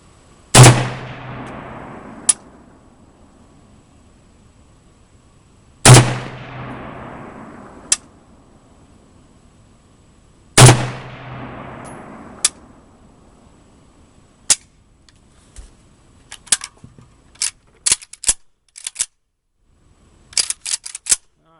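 Galil SAR rifle firing three loud single shots spaced about five seconds apart, each with a sharp crack and a long decaying echo, followed by scattered lighter clicks and metallic handling noises.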